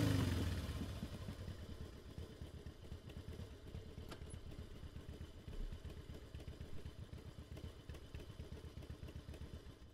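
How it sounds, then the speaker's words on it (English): A motorcycle engine recorded in the field idles close to the microphone with a steady, rhythmic low throb and light mechanical clatter that continues evenly for the whole stretch, with no voices. "So here is this recording of a motorcycle that I made back in like 2011."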